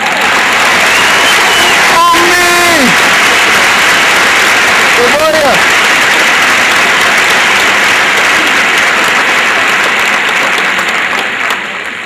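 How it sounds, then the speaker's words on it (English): Sustained, dense applause from a large audience at a BYU graduation ceremony in 2007, a steady roar of clapping filling the hall with a couple of brief whistles early on. "I think we should have a round of applause for all the moms and dads here today as well."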